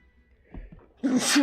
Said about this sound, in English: Why do I have the sneezes now?